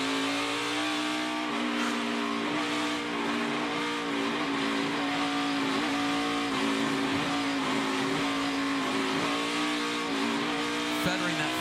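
A NASCAR race car engine roars steadily at close range, its throttle feathered through the carousel turn at Road America during the 2020 Henry 180, pitch dipping and swelling in long held notes over continuous track noise.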